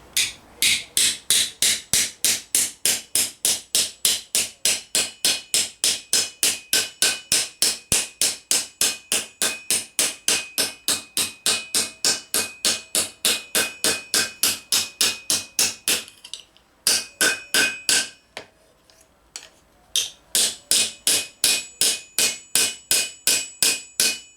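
A rounded ball peen hammer strikes gauntlet thumb metal resting on a lead block in a rapid, even run of sharp ringing blows that continues for over twenty seconds, with one short irregular pause near the end.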